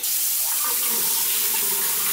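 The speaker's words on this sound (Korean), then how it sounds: "물이 어느 정도로 센 샤워기 호스입니다." Strong water spray hisses continuously from a swivelling shower head on a hose, a loud, steady rush with no pauses and no voices.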